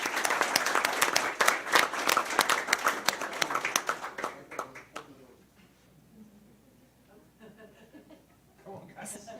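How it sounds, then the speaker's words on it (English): A school board meeting audience claps for a state runner-up boys soccer team: a brisk, close round of applause with some chuckles fades after about five seconds into scattered claps and quiet murmuring. "so let's give them a round of applause"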